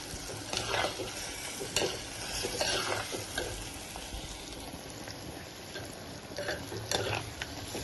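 Bitter gourd pieces fry in oil with rock salt and turmeric, giving a soft, steady sizzle with intermittent stirring scrapes close by.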